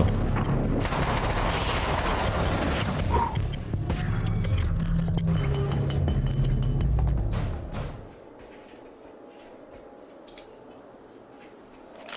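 Carbine rifle fire in a horror video game: dense, rapid bursts of shots and impacts for about eight seconds, loud and close, then a sudden drop to quiet ambience.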